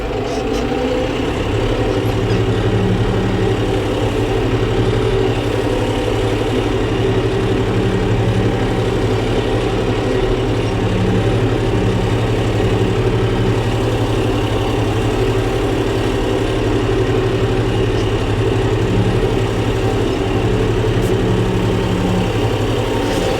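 A tractor engine runs steadily at a constant, loud, low rumble while the tractor turns with its cultivator, a dense continuous drone with no breaks and no voices.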